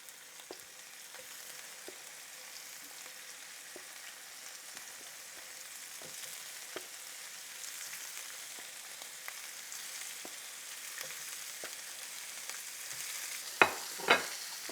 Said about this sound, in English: I'm going to add some more sunflower oil here for the shrimp. Get them in.